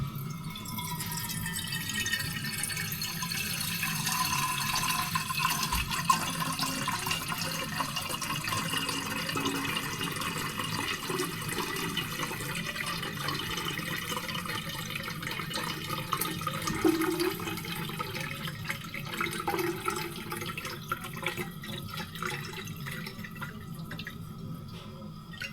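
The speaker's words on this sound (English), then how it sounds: "This is a half-gallon jug, so what I want to do is just try this and see what kind of a flow rate we're going to get." Water from a reverse-osmosis filter system runs into a half-gallon jug, a steady, continuous trickle and splash that holds at an even level throughout, close by with no talking.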